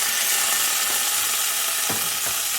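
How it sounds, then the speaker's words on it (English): Mustard seeds and garlic fry in hot oil for chilli pickle, giving a steady close sizzle with a few stirring scrapes near the end. No one speaks. "Now that I've got my garlic to a reddish stage, I'm going to add my mustard."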